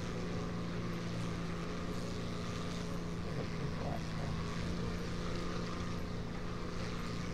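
Propeller engine of an F2A1 Buffalo World War II fighter plane in a video game, a steady, dense droning hum that holds constant throughout without breaks.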